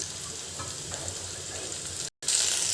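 Onion frying in a pan with salt and ginger-garlic paste gives a steady, even sizzle throughout, broken only by a sudden moment of silence near the end before the crackling resumes a little louder.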